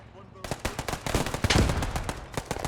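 Rapid bursts of gunfire crackle through a Post Scriptum World War II battle, dense overlapping shots and bullet impacts sounding close and loud, with a voice talking faintly underneath.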